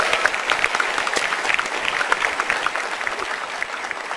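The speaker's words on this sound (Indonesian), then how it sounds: "Tepuk tangan." Steady applause from a stand-up comedy audience, many hands clapping densely and evenly for several seconds.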